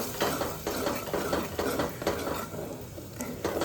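Red chilli masala stirred and sautéed in oil in a pan, heard as rapid repeated scraping strokes with a constant crackling sizzle, loud and close with no talk.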